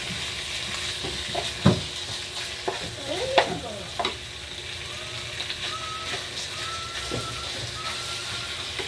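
A spoon stirs chicken being sautéed in a pan for tinolang manok with lemongrass, with soft sizzling underneath and a few scraping clinks of the utensil against the pan, heard close and fairly quiet.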